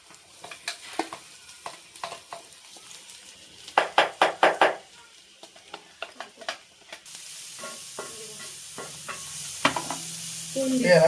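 Grated carrot fries in a pan while a utensil stirs it, giving sharp scraping knocks in bursts, then a steady sizzle rises underneath with more stirring strokes, close and fairly loud.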